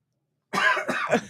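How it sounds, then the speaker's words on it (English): A single short cough with a couple of harsh bursts, close and loud, after a moment of silence. "Sorry, I had to cough."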